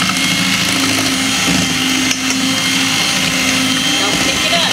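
An electric mixer beating old-fashioned peanut butter cookie dough, a loud steady whirring hum with a constant motor drone throughout, dipping briefly once partway through.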